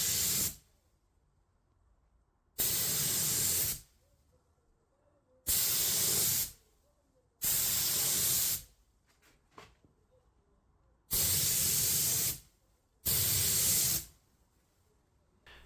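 Second coat of car paint from a spray gun in a home garage, six steady hissing passes of a second or so each with silent gaps between, close and loud, no voices.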